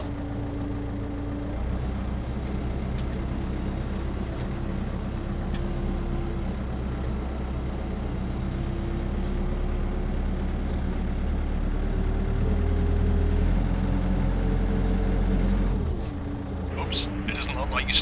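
A tractor fitted with a fork attachment rolls forward, its engine a steady low drone throughout with a faint pitch rise, ending in a few sharp mechanical clanks.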